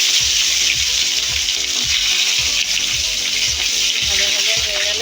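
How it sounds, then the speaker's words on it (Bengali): Chopped tomato hits hot oil with bay leaf in a pan for a vegetarian dhokar curry, giving a loud, steady sizzle and hiss with rhythmic low scraping knocks underneath. "টমেটো কুচিটা দিয়ে দিলাম"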